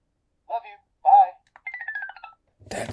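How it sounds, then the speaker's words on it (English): A Fisher-Price Bluetooth Chatter Telephone toy giving short chirpy electronic tones and a brief rising beep sequence, with a burst of noise at the end. "The phone is telling me he loves me."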